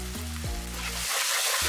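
Spices, Kashmiri chili powder, turmeric and salt, frying and sizzling in a pan as they are stirred, with a steady loud hiss that fills the short clip, and no talk.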